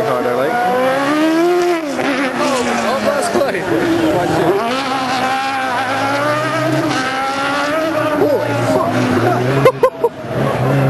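A rally car at a Granite City stage event, its engine revving loud and near with rising and falling pitch as it races past, and spectators talking over it.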